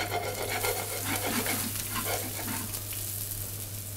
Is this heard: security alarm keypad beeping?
no